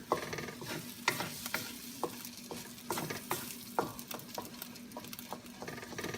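Scrambled egg cooking in a pan for Japanese fried rice, a soft sizzle under repeated sharp scrapes and taps of a spatula stirring in an uneven rhythm, close and without speech.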